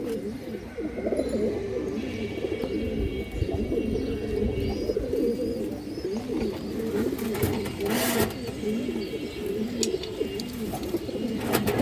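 Pair of large Mushaldom running pigeons cooing up close, a steady stream of soft throaty rolling coos that continues throughout, with faint background noise.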